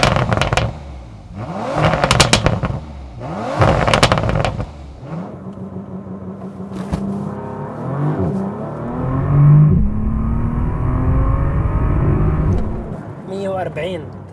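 A 2019 Bentley Continental GT accelerating hard, engine revving up in rising bursts with gear changes, then a long pulling run of climbing engine tone, close and loud, with a voice talking at the start.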